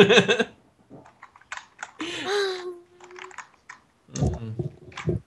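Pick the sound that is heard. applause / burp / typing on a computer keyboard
typing on a computer keyboard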